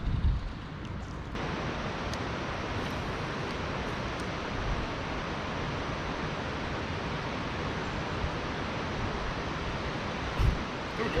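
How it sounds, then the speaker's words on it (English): A steady, broadband roar of rushing water from a large waterfall in Tennessee fills the whole stretch, constant and fairly loud with no other clear sounds. "It sounds like we're getting close to the waterfall."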